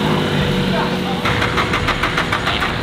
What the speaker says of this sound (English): It sounds like an SR starting up.